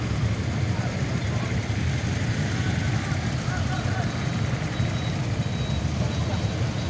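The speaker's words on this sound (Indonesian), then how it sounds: "Sementara truk-truk ini dan kendaraan lainnya ini akan naik Bukit Semadam untuk menuju ke arah Sumatera" Trucks and other vehicles climbing the Bukit Semadam hill road toward North Sumatra, a steady, dense rumble of heavy engines with a faint high beeping near the middle and voices mixed in.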